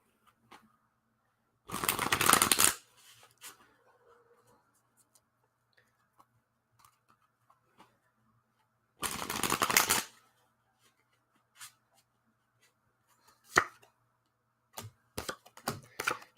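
A deck of playing cards is shuffled in two quick riffling bursts close by, separated by quiet pauses with a few light ticks and taps afterward.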